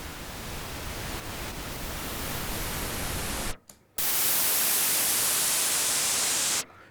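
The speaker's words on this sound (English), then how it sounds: "pink noise slowly sort of slopes off over the course of the spectrum." Pink noise from a 1973 Moog Model D Minimoog synthesizer, a steady loud hiss broken by a brief near-silent gap, then resuming at full level before cutting off abruptly.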